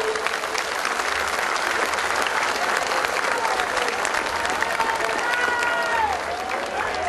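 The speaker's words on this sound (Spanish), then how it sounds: "Un aplauso, por favor." Crowd applause at an FMLN political rally in El Salvador, dense sustained clapping throughout with scattered cheers and shouts mixed in.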